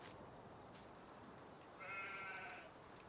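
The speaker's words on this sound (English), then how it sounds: "There is Mr. Sheep." A single sheep bleats once, a short wavering call that stands out clearly over a quiet rural ambience on a sheep farm in Farming Simulator 19, with no speech.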